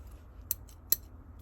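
Two crisp snips of gritty, dirt-fouled scissors, close and distinct, about half a second apart, against a quiet background.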